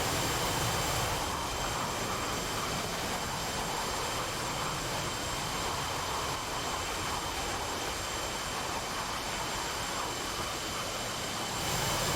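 Jet engines of two aircraft flying an inverted tuck-over roll at an air show in the DCS World flight simulator, a steady broadband roar held at constant loudness throughout with no talking.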